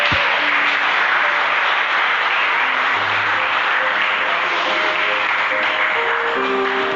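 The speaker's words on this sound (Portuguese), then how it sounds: "E eu quero dar uma salva de palmas aí para todos os irmãos que saíram de casa e vieram" A church congregation applauds during a teaching service, a dense, sustained wash of clapping from many hands, loud and steady throughout, with faint musical tones underneath.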